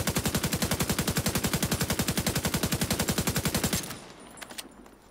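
Rapid automatic rifle fire in a video game, a steady stream of about two dozen evenly spaced, loud shots over nearly four seconds, then stopping abruptly into quieter background game sounds with a few faint clicks.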